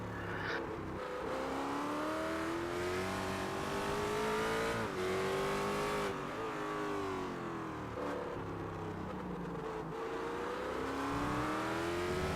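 A BMW GT3 race car roars on the Circuit of the Americas track during a six-hour endurance race, its engine note rising and falling through gear changes, loud and continuous with no talk over it.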